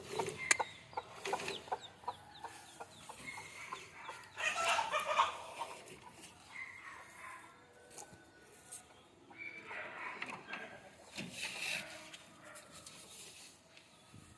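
Native chickens cluck and chatter in a morning barnyard as their coop is opened, with scattered calls rising and falling over a busy, moderately loud background.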